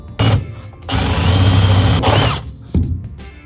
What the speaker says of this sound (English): I'll be drilling small little 3/16.